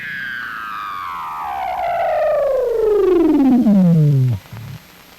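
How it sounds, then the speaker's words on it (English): A Weddell seal's long, loud descending trill underwater sweeps steadily from high to low pitch over several seconds, rich in harmonics, ending in a brief low grunt. "There was a descending trill, heard continually where seals gathered."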